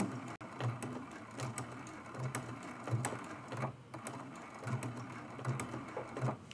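A sewing machine runs steadily, stitching a quilted mug rug, its needle chattering in a quick, even mechanical rhythm up close with no pauses and no voices.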